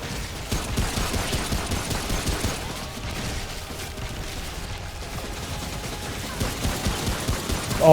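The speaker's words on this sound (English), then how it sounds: "turrets were definitely the best choice for the start of this fight" Continuous rattling turret gunfire in Remnant: From the Ashes, a dense rapid stream of shots that stays steady and loud throughout.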